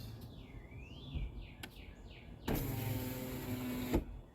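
Power windows on a 2009 Ford Escape run in an enclosed cabin: a brief whirring motor sweep early on, then a louder steady motor drone lasting about a second and a half that stops with a clunk. No one speaks.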